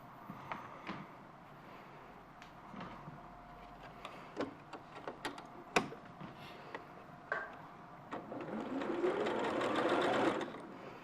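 A sewing machine stitches quilt fabric pieces together, its needle clattering in bursts with brief pauses and small ticks, then running in a longer steady whir near the end; close and fairly quiet, with no talk.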